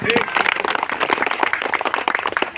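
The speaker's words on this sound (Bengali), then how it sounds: "হাততালি দাও" Dense, continuous clapping rises from the audience at a women's rally in Kurigram. The applause is close and energetic throughout, with voices mingling in the crowd.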